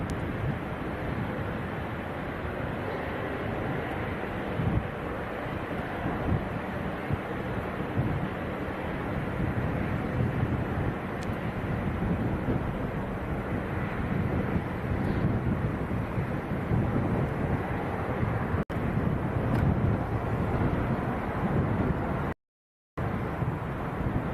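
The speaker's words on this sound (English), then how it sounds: "it is very, very windy up here" Strong wind roars and buffets the microphone at Leeds Bradford Airport for the whole stretch, a loud, continuous rushing with gusty surges and a brief dropout near the end.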